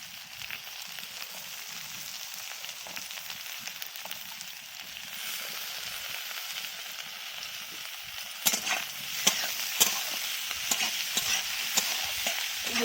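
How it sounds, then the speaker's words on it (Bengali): Finely chopped radish fries in oil in a pan, a steady close sizzle with louder scraping and stirring strokes toward the end. "ভাজা ভাজা করে নিচ্ছি মূলোটাকেও।"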